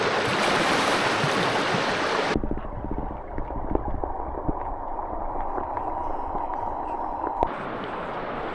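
Someone enters a river in a quiet Japanese gorge: a loud burst of rushing splash, then a muffled, underwater-sounding stretch, then splashing again as they resurface.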